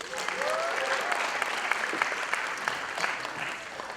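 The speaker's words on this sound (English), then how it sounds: "So let's hear it for Yashna." Sustained audience applause at a dance recital during an Arangetram, dense steady clapping from a crowd filling the whole stretch with a few sharper individual claps standing out.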